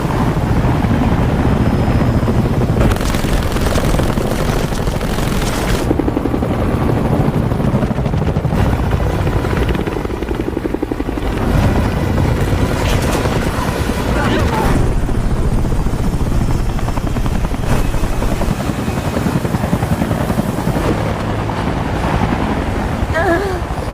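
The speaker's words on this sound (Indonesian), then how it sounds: "tiba-tiba helikopter musuh muncul dan mengetahui keberadaan mereka" An enemy helicopter roars loud and close for the whole stretch, its rotor drone mixed with wind and rushing sea noise, swelling and fading slightly as it passes overhead.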